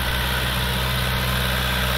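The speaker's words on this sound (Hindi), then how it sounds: "आपको इसमें four cylinder engine inline pump diesel pump के साथ जिसे बलिंजरी पंप भी बोलते हैं मिलता है जी" A YTO Ecomaster 404 40 hp tractor with a four-cylinder diesel engine and inline injection pump idles in a steady, close, low rumbling drone that holds even throughout.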